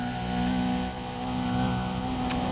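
A Mazda sports car engine holding top speed in the racing game Need for Speed: Undercover: a steady, loud, droning engine tone with a slight dip and recovery, and no talk.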